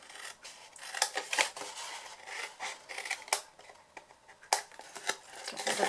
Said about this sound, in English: And then we're just going to cut away this corner piece here.